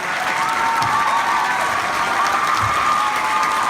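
A conference crowd stands and applauds Edward Snowden, who has joined by Skype. The dense, loud ovation is continuous, with a few scattered cheers in the mix.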